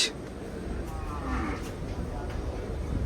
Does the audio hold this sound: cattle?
yes